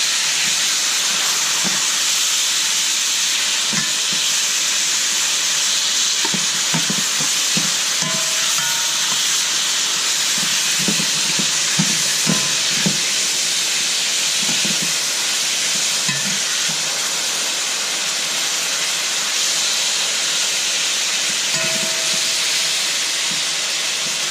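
Steak for pan con bistec sizzles and hisses steadily in an oiled pan, a continuous loud fry with scattered soft scrapes and thumps as the pieces are turned.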